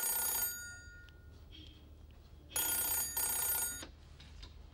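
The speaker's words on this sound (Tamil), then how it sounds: "ஃபோன் அடிக்கிறது காதில் விடலையா?" An old-style telephone bell rings in bursts: one ring fading at the start, then a longer double ring after a pause, fairly close and loud in an indoor scene.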